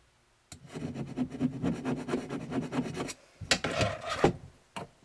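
A file works a metal slider-frame trigger plate with the grain, giving a fast run of close rasping strokes, a short pause, then a heavier burst of scraping and a final stroke.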